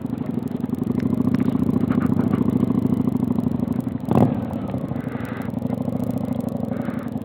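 A Honda Shadow motorcycle rides through snow and ice, its steady low engine drone continuous and close, with a brief louder clattering burst partway through before the engine settles back.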